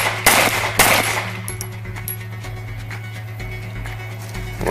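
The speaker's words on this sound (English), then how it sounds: "In this course, you will fire at the threat target until you no longer have a threat present." Gunfire at threat targets on a shooting qualification course: a few sharp shots early on, then scattered fainter reports over steady range noise and a constant hum.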